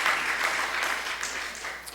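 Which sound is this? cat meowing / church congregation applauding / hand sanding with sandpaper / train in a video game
church congregation applauding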